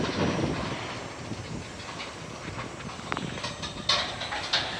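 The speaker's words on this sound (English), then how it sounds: "Okay, I think this eastbound train's finally leaving" A CN freight train pulls away eastbound, a steady broadband rumble of rolling cars with a few sharp clanks and squeals near the end, heard from trackside with no talking.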